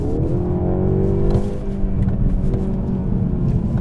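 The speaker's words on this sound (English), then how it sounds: "It is what's going on underneath the bonnet and coming out of the exhaust, amplified into the cabin" Steady engine drone and exhaust rumble of a 2023 Mercedes CLE Coupe fill the car interior, partly artificially amplified into the cabin, a low humming growl that rises slightly in pitch.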